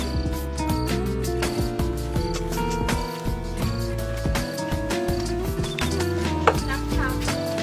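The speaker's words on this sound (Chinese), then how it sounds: "这肉切切给它剁碎" Meat being chopped finely with a cleaver for dumpling filling, a quick irregular run of close, sharp knocks that keeps going throughout, set against steady tonal background music.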